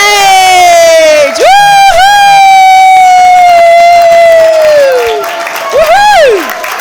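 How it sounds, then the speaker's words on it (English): A live audience at the InspireYour Confidence Summit 2025 cheers with loud, rising whoops and shouts as Mark Holland comes on stage, sustained for several seconds while an announcer's voice rings out. "give a massive, rapturous round of applause for Mark Holland as he comes to the"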